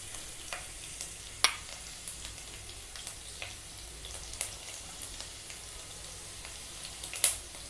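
Mustard seeds crackle and sizzle steadily in hot oil in a pan, with scattered sharp pops and spits, a couple standing out louder than the rest.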